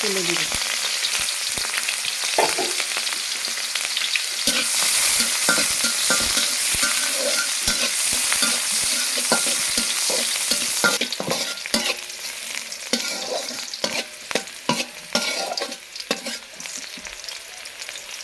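Leafy greens frying with onion, green chilli and garlic in a pan over a clay stove, a loud continuous sizzle broken by frequent sharp scraping stirs, growing more rhythmic toward the end, with no voices.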